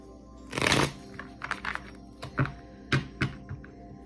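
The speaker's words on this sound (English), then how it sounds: "when I was shuffling my cards" Quick riffling of tarot cards, a burst of flutter followed by several soft taps and slaps as the deck is squared, close and quiet.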